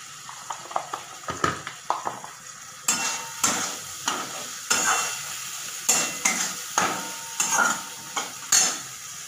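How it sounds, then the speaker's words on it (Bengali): Spice masala for alur dom being stir-fried in oil in a pan, with repeated rhythmic spatula scrapes and knocks over a continuous sizzle, close and fairly loud, and no one speaking. "এবার আমি মশলাটাকে খুব ভালোভাবে কষব, যতক্ষণ না তেল ছাড়া হচ্ছে ততক্ষণ আমি কষব"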